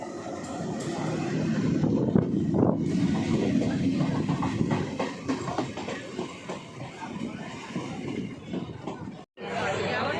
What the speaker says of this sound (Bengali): চলে এসছে আমাদের লোকাল ট্রেন, এই ট্রেনে করে যাব হাওড়া স্টেশন।